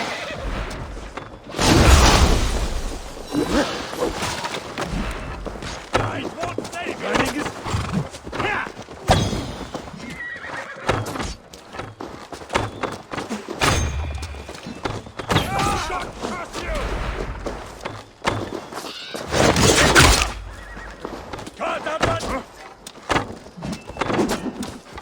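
Horses in Assassin's Creed Valhalla whinny loudly in several bursts over clattering hoofbeats, thuds and battle noise, with no voices.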